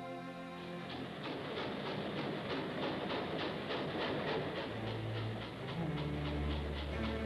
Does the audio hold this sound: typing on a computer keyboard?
no